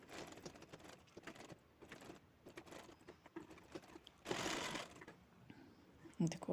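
Sewing machine running in short bursts while stitching the neck piece of a blouse, its rapid mechanical patter close by and mixed with handling noises and a brief louder stretch of whirring.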